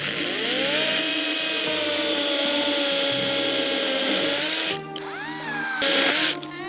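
A battery chainsaw cuts through dry standing deadwood with a loud, high whining chain buzz that shifts in pitch under load. The whine breaks off briefly midway, then quickly resumes.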